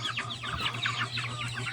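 Large backyard-raised native chickens cluck steadily and busily at moderate distance, several birds overlapping in a continuous chatter over a low constant hum, with no talking.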